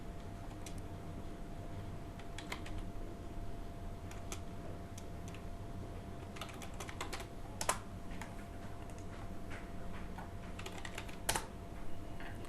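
Keystrokes on a computer keyboard come in scattered bursts and single taps, soft and close, over a steady low room hum.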